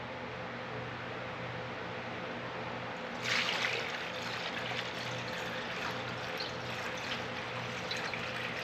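Fuel poured through a funnel lined with a fine t-shirt filter into the tank of an antique tractor, a soft steady liquid hiss and trickle that swells after a few seconds over a low background hum.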